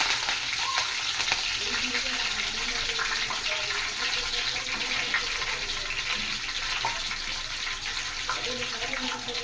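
Curry leaves sizzle in hot tempering oil in a pan while green chilli chicken is cooked. The frying is steady, close and continuous, a dense crackling hiss that lasts the whole stretch, with no clear talk over it.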